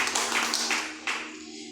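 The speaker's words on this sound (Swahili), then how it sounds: "Pigia Yesu makofi mazuri." A church congregation claps their hands together in praise during a sermon, a dense burst of applause that fades after a second and a half.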